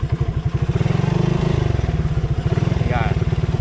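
A motorcycle with a broken clutch cable catches after a push start in gear, its engine thumping in a rapid, steady idle rhythm close by throughout, with someone talking over it.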